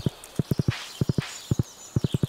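Horse hooves clip-clopping as a rider travels in the video game Stardew Valley, crisp rhythmic hoofbeats in quick clusters of three or four, close and clear with no talk.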